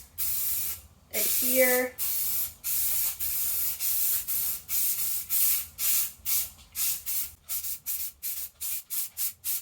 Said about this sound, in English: Oops. Just sprayed my glove.